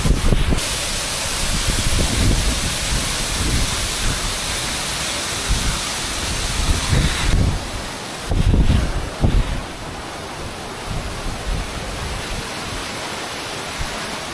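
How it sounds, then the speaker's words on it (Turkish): Ağaç Dibi waterfall in Hakkari, Turkey, a loud, continuous roar of falling water heard up close, with steady hiss and spray filling the whole stretch and brief wind buffeting on the microphone. "ağaç dibi şelalesindeyiz"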